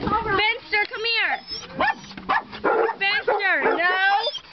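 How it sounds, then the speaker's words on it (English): Fenster, a stuck rescue dog, barks, yips and whimpers in repeated excited bursts close by, mixed with people talking. "We have a stuck dog."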